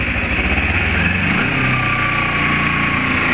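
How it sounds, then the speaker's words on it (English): A 2012 Kawasaki Ninja EX250 motorcycle engine is held at a raised idle, a steady, loud, close buzzing drone that continues without a break and without any voices. "I'm going to idle up a little bit"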